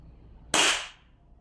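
A single sharp crack from an airsoft gas blowback pistol, a WE P08 or Action Army AAP-01, fires close by and decays quickly into quiet.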